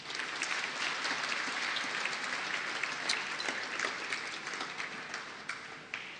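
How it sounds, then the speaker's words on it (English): An audience at the Sikh Channel People Award 2011 in Birmingham Town Hall applauds channel director Davinder Singh Bal, giving dense, sustained clapping with scattered sharper claps. "I think we should all applaud Davinder for his courage."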